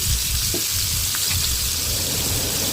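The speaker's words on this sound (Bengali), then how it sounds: "অল্প অল্প করে দেব যাতে করে মাছগুলোকে হালকা করে সুন্দর করে ভেজে নেওয়া যায়" Tiger prawns frying in hot mustard oil in a wok, a steady close crackling sizzle running throughout with no voices.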